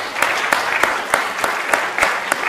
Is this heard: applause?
yes